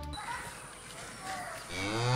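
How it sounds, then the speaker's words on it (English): A single drawn-out cow moo, loud and close, rising into a strong low bellow at the end. "this cow mooing sound effect"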